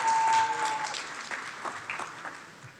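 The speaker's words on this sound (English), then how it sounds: "Please give her a round of applause" An audience in a town hall meeting room at Bowie State applauds to welcome State's Attorney Aisha Braveboy, with a burst of clapping that is loudest at the start and then thins into scattered claps.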